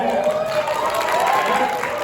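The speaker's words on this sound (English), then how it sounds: "big round of applause for Galvin." Steady applause from a gaming convention crowd, sustained clapping filling the whole stretch at a fairly loud, even level.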